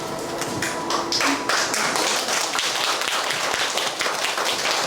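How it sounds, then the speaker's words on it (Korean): An audience at a lecture hall claps to welcome a lecturer in a broad, steady patter of many hands, with a few louder taps and thumps close by. "우리 강사님 나오실 때 박수로 환영해 주시기 바랍니다"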